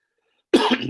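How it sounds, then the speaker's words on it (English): A single short, harsh cough bursts out after half a second of silence, close and fairly loud, with no talking around it. "I've got a slight itchy cough, so apologies for that."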